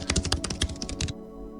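Rapid, uneven keystrokes on a computer keyboard, a close burst of clicks for about a second before falling quiet, with no voices.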